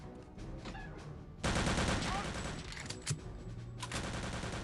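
Sustained rapid enemy gunfire in the shooter game Return to Castle Wolfenstein: loud, dense bursts of automatic weapons that continue nearly throughout, growing heavier partway in, with faint talk underneath.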